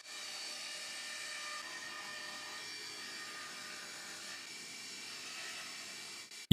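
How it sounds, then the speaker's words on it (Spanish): A saw runs steadily cutting a circle from reclaimed white oak on a table set to 0 degrees, a sustained even whine with a hissing edge that holds for about six seconds, then stops abruptly. "necesito cortar otro círculo para la parte superior, pero esta vez con la mesa ajustada a 0 grados"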